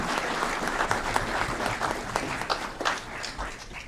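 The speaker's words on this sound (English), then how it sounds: "Let's give them all a big round of applause" A big round of applause from an audience at a city council meeting, dense steady clapping that carries on for the whole stretch without dropping off.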